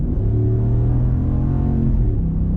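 A 2021 Ram 1500 Bighorn pickup with the Hemi V8 accelerates hard, its loud, steady engine rumble rising through the gears with a brief shift dip near the end, heard from inside the cab.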